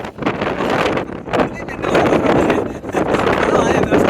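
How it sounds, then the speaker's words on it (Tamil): Strong wind at the Valparai hill station near Pollachi roars steadily and buffets the microphone in loud, continuous gusts, with a voice partly buried underneath. "சரியான காத்தடிக்குதுங்க செம்ம."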